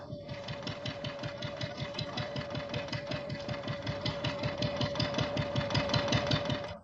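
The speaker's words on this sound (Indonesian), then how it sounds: "Generator bekerja berkat busi yang kami curi dari Barbara." A generator running, a steady mechanical chug with a fast, even rhythmic pulse and a constant hum, close and fairly loud throughout, growing slightly stronger toward the end.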